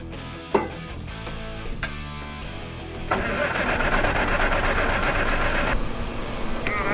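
A Perkins six-cylinder diesel engine in a Massey 860 combine cranks and catches, then settles into a loud, steady running roar after a few seconds of uneven turning over.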